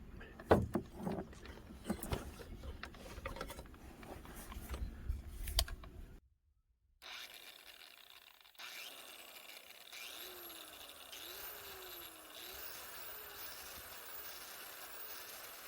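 An angle grinder runs off a Bluetti EB3A portable power station, ramping up gradually to full free-spinning speed with a steady whirring whine and rising tones, moderately loud and heard without talk after some earlier handling clatter.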